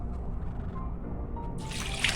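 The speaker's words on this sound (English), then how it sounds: "And then we will pour in water." Water poured into a pot with rice for purple yam champorado, a steady close liquid gurgle and trickle that brightens into a splashier pour near the end.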